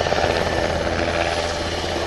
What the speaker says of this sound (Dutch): deze gloednieuwe NH-90 hier in het luchtruim